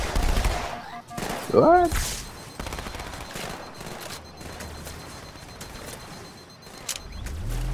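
Automatic fire from dual SMGs in Halo 2 crackles in bursts through a busy combat mix, with a sci-fi weapon whoosh near the start and brief spoken remarks over it.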